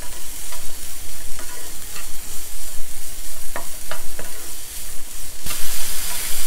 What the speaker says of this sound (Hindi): कटी हुई शिमला मिर्च, कॉर्न्स और टमाटर, इनको अच्छी तरह सौटे कर लीजिए।